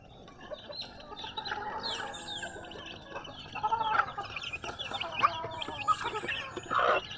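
Brooding hens and other chickens in a newly built backyard coop cluck and murmur steadily at close range, with a few louder squawks and calls rising toward the end.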